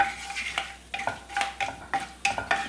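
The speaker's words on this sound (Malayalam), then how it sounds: "ഒന്ന് ഇളക്കി കൊടുക്കാം." Five cardamom pods and six cloves frying in hot oil for a Kerala chicken stew, sizzling steadily while a spoon scrapes and stirs the pan in regular, close strokes.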